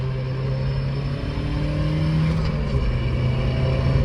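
A Mazda Miata NB with a short shifter drives along, its engine droning steadily from inside the cabin with a constant low hum that rises slightly in pitch and loudness as it moves through the gears.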